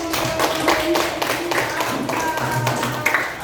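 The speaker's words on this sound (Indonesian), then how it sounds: "Oke, tepuk tangan." A classroom group claps at the end of a discussion, giving a brief burst of uneven hand claps with sharp individual strikes over a murmur of voices and a faint background hum.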